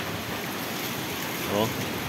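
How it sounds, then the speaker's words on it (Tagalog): Continuous rushing typhoon wind roars across the clip in Real, Quezon, Philippines, swelling slightly in a gust near the end, loud and close with a faint voice underneath. "bumubugso na naman po ang hangin."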